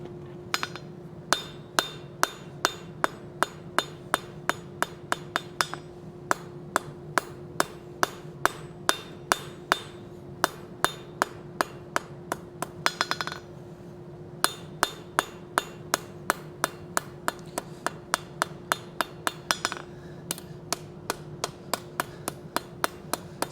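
Steady hammer blows ring on an anvil while a Nordic wolf head door knocker is forged, dozens of bright metallic strikes at an even pace with a short pause midway, over a constant low hum, close and loud.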